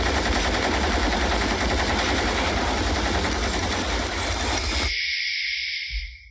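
Dense, heavy automatic gunfire from a big gun in the Animal movie trailer roars continuously for about five seconds, then cuts off abruptly, leaving a faint high ringing tone.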